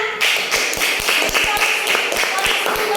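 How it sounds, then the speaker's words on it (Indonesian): Hands clap in a quick, uneven patter from a small group in a classroom, sharp close slaps repeating for a few seconds with a voice faintly underneath. "Ya, tepuk tangannya mana?"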